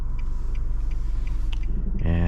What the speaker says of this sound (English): We're gonna go ahead and take it on the highway and we'll see how this Altima will do